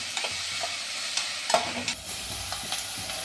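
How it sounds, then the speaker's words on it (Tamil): Onions sautéing in a pan for a hotel-style prawn gravy give a steady, close hiss of frying, broken by light scraping from stirring, with no voices. "பச்சை வாசனை போகிற அளவுக்கு நல்லா வதக்கிடணும்."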